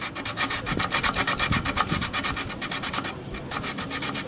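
Violin wood is sanded by hand with sandpaper in quick, even back-and-forth strokes, a close rasping rub with a brief pause before the rhythm resumes.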